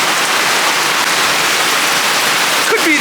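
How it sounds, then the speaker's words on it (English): Heavy rainstorm pouring down at a lakefront campsite at night, a dense, loud, continuous hiss of rain filling the whole scene, close and unbroken. "Well, here's that rainstorm we've been waiting for all day. That just came ripping through here."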